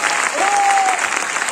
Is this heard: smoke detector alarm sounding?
no